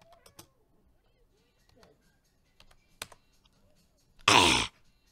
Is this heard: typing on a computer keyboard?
yes